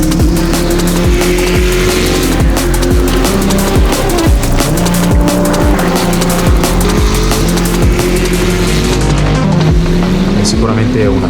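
Lamborghini Temerario GT3 race car at full throttle on a track, its loud engine note rising and dropping through rapid gear changes with a sustained, close roar, under a voice speaking Italian.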